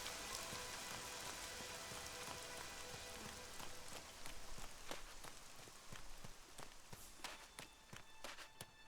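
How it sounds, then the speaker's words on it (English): Rain in the video game ELEX falls as a steady hiss of drops on a surface, while sharp footstep-like clicks patter irregularly through the second half, with no speech. "So we rain came in and went,"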